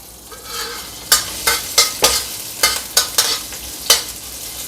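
Garlic and chili stir-fried in oil: a soft sizzle runs underneath while about nine sharp, evenly spaced scrapes and clanks of a utensil against the pan stand out, fairly close.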